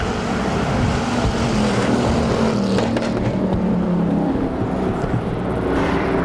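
Bomber-class race cars roaring around an oval in a 120-lap Arizona enduro, several engines droning and passing close by in a steady, loud, continuous wash of motor noise.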